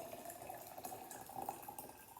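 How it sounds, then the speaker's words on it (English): Hot water running from a tap into a glass mason jar, a steady splashing, gurgling flow at close range, fairly quiet, with no talking. "I'm going to fill my mason jar with hot water"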